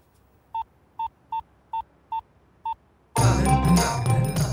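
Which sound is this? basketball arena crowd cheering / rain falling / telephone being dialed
telephone being dialed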